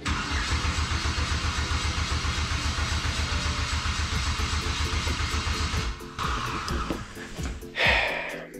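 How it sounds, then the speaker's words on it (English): A Miata fitted with an Ecotec engine cranks over and over without catching, a loud rhythmic starter churn lasting several seconds, then stopping, with a brief second crank attempt near the end. "let's see if this thing starts"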